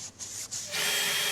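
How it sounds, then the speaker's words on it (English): A handheld drill bites into material during interior design work, with a short scraping rub at first, then a steady high whirring drill run that stays close and fairly quiet. "It's hard to drill left-handed"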